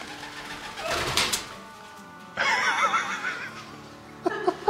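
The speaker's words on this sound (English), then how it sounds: "It's a giant pigeon." A pigeon coos and flutters inside an echoing cave at Hocking Hills State Park, with laughter and chuckling from people nearby breaking in.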